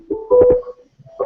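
A phone rings with a short electronic tone, two brief bursts of ringing close by, separated by a pause, with no talk over it.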